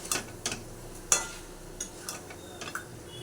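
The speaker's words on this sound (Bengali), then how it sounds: "পটল পোস্ত এবং টমেটো প্রায় ভাজা ভাজা হয়ে এসছে আমার" Pointed gourd, poppy seeds and tomato frying in a pan, with a faint, low sizzle under sparse, sharp clicks of a spoon stirring against the pan, close and quiet, with no talking.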